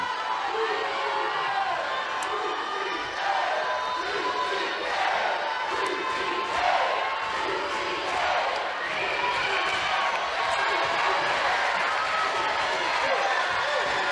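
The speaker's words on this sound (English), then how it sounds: "Georgia crowd starting to get a little momentum going here" Home crowd at a Georgia women's college softball game against Florida roaring and cheering, a dense, sustained wash of voices with shouts rising and falling throughout.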